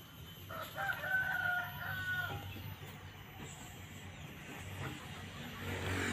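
Laying hens cluck and a rooster crows in a coop over a low background hum, with scattered soft calls continuing throughout.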